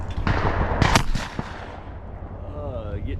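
Shotgun blasts at a clay target shooting meet, a couple of sharp close reports in quick succession followed by fading echo.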